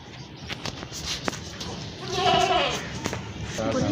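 A pink goat for sale at a livestock market gives a short, strained bleat midway, heard amid crowd noise, handling thumps and nearby talking.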